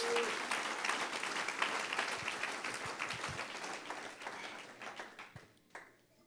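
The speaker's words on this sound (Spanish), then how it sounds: "Un aplauso fuerte al Señor." A church congregation breaks into loud, sustained applause that fills the room with dense clapping, tapering slightly toward the end, with no one speaking over it.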